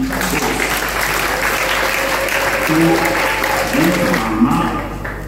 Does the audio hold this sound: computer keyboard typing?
no